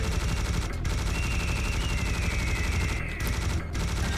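Sustained gunfire rattles without pause while harpies are shot in Serious Sam: The First Encounter co-op, a dense loud barrage with a faint rising whine threading through it.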